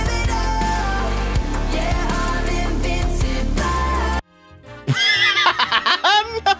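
Loud horse whinny rising and falling after a stretch of music cuts out, the neigh close and shrill with fluttering breaths.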